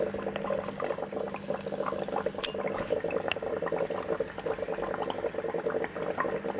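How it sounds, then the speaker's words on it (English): Copper chloride solution bubbling outdoors while recovering gold from gold plated ribbon wire, a steady continuous fizzing and gurgling simmer with dense small pops, moderately close and constant throughout, with no talking. "So you can see it bubbling away here."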